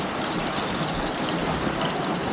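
Water rushes through a drain just cleared of a clog, a loud, steady, close gushing with no pause.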